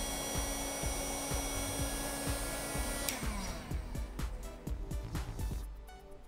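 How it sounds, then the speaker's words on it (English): A heat gun blows hot air as a steady broadband whoosh, joined by rhythmic clicking from a homemade 3D printer built from recycled electronic waste, with the airflow changing partway through. "Grab your heat gun"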